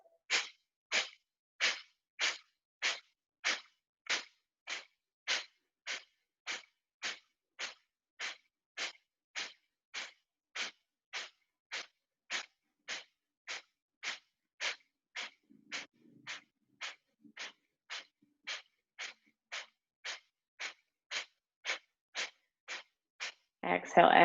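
Yoga fire breath, rapid forceful breathing: a long run of sharp, evenly spaced nasal exhales, about two per second, close and alone in a quiet room, ending with a brief louder burst.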